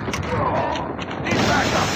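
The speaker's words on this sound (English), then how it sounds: "Reloading!" A weapon reload in the mobile shooter game Call of Duty Mobile gives a quick burst of mechanical clicks and clacks, loud and close, over steady game background noise.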